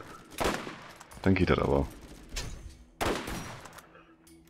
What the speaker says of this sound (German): also wenn die Schüsse sitzen von der Waffe